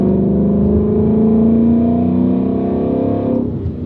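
A Ford Mustang GT with a 5.0 V8 Coyote engine, 460 horsepower and a six-speed manual, revs loudly up close, a deep steady burble rising in pitch and then easing off near the end.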